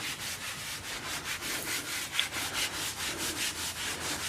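Cloth wiping conditioner across the leather interior of a first-generation Ford Raptor, heard as steady, rhythmic rubbing strokes, close and fairly quiet, repeating about three times a second.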